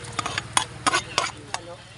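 A pot of crab and fish cooking with onion, tomato and alugbati gives soft bubbling and stirring clatter in irregular bursts, with talk mixed in.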